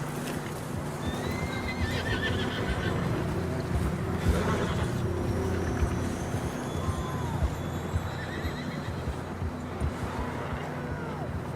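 Several horses gallop in the western game Red Dead Redemption, with continuous pounding hooves, occasional whinnies and a busy outdoor background, loud and close throughout, with faint voices underneath.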